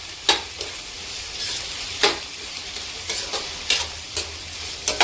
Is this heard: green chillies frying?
yes